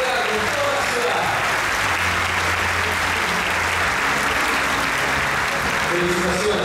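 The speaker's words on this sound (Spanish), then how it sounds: "¡Qué aplauso fuerte, por favor, que se junten en todo el teatro, en toda la ciudad!" Loud, sustained applause from a large audience fills a theatre, steady clapping throughout with a low murmur of voices underneath.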